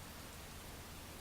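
Steady rain falling in a city, a continuous even hiss of broadband noise with no distinct drops or pauses, moderately quiet throughout.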